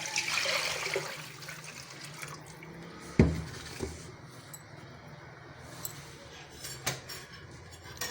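Water pours into a cooking pot (patili) coated with leftover oil from making ghee from cream, a splashing gush at first that fades to scattered drips, clinks and small knocks of the pot, with no one talking.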